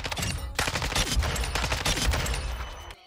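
Automatic weapon fire in the Warzone firing range, fast continuous bursts of loud, close shots with a short break before another sustained burst, no talking.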